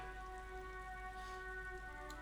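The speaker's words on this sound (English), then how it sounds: "It's raining again." Steady rain in the video game Disco Elysium, a soft continuous hiss of falling water heard alone at low level, with sustained tonal music notes running underneath.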